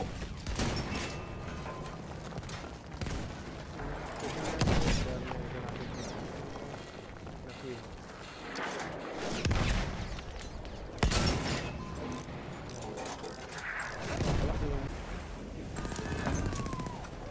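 Artillery barrage in the Battlefield 1 video game, with heavy booming impacts and crackling gunfire repeating every few seconds under a continuous loud battle din, while a player talks over it.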